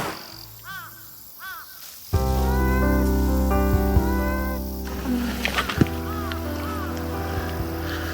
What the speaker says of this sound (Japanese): 猫と戯れてる。